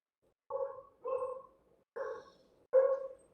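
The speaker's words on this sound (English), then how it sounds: "That's not my dog this time." A dog barks four times in a slow, uneven series, each bark loud, close and clearly separated by short pauses.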